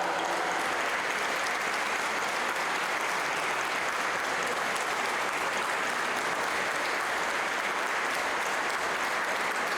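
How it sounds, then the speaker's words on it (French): A church congregation at Sunday Mass stands and applauds the choir, a sustained, even roar of many hands clapping together with no pauses. "levez pour applaudir la chorale"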